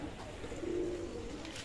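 Pigeons coo softly from a rooftop loft on a cloudy winter day, a single low, rolling coo heard faintly and fairly close with light background noise.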